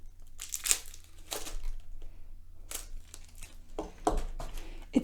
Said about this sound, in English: Now, removing all this unnecessary plastic.